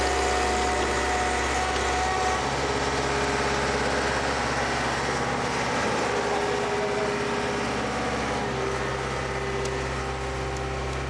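A motorcycle engine runs steadily and loudly up close, a continuous idling drone with a constant low hum, its carburetor at risk of stalling in water.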